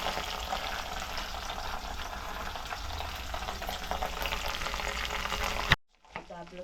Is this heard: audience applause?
no